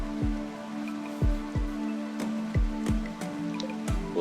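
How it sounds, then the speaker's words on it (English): Rain falling in the RimWorld colony sim: a steady wash of patter with a string of distinct, sharp drip-like hits at irregular intervals, moderately loud over a constant low background tone, no voices. "We got some serious rain coming down."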